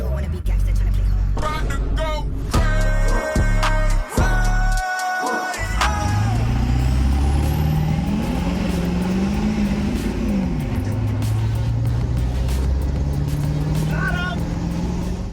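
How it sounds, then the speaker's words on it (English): A diesel Ford Powerstroke pickup truck engine roars under wide-open throttle, revving high and climbing through gears, loud and close with a steady heavy rumble throughout. "Let's do a wide open throttle pull."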